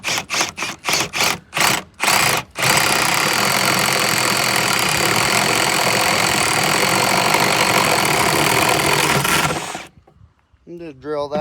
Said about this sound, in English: And just drill that out.